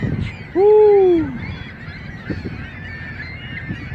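A single loud goose-like honk rings out close by at a cold boat dock, followed by quieter outdoor noise and a few faint distant calls.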